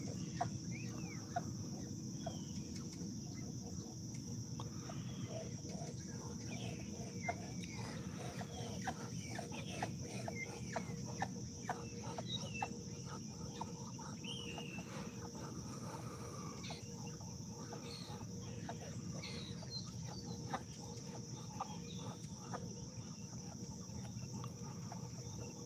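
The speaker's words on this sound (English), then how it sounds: "them ducks is starting to act up again" Ducks acting up, a continuous restless chatter of clucking, quacking calls spread over a steady hum of insects and background noise, moderately distant and sustained throughout.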